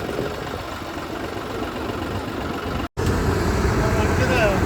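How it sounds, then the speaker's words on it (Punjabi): A combine harvester engine at a maize harvest runs with a steady, rough mechanical drone, close and continuous apart from a brief cut. "ਆ ਗਈ ਆ ਕੰਬਾਈਨ ਤੇਲ ਪਾਉਣ ਗਏ ਸੀਗੇ"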